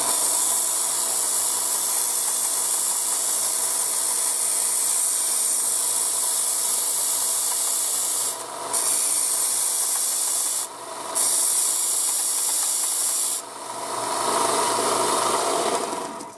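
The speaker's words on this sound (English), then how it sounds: "belt sander. This is a cheapo model over here from Harbor Freight, but you know what? They work." A cheap Harbor Freight belt sander thins a Ruger revolver coil spring. It gives a steady, loud abrasive hiss and rub that runs continuously, with a few brief dips where the spring is lifted away.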